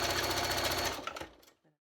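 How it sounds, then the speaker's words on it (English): Sewing machine running steadily to stitch a log cabin quilt block seam on muslin foundation, a fast rhythmic whirring chatter that runs loud for about a second, then slows and stops. "So now I'm going to sew that seam."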